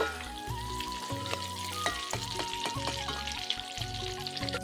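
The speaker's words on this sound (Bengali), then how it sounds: "একে একে দিয়ে ভেজে নিচ্ছি" Marinated chicken pieces fry in hot oil for a chicken babuji recipe, a soft, steady sizzle with bursts of crackle and faint stirring, fairly quiet and close, with no talking.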